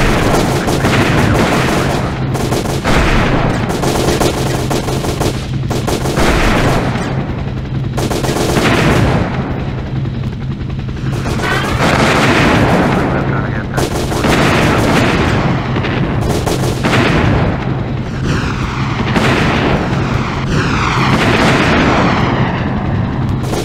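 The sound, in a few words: gunfire from the video game Hell Copter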